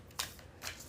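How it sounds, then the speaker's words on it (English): Tarot cards being shuffled back into the deck, two short riffling bursts close up, the first sharper and the second softer, with no talking. "I definitely have to shuffle the cards back into the deck."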